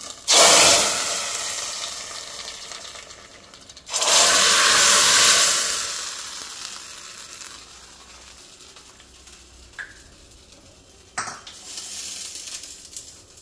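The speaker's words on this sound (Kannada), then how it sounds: "ಮೊದಲಿಗೆ ಹಿಂಗೆ ಹಾಕಿ ಆಮೇಲೆ ಒಗ್ಗರಣೆ ಹಾಕೋ" Spiced tempering is tipped into a pot of drumstick leaves rasam, setting off two loud bursts of hissing sizzle that fade away, with a few light metallic clinks from the pan afterwards and no one talking.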